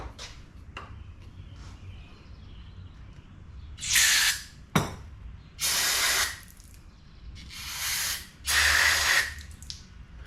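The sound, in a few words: spraying brake cleaner on crusty old grease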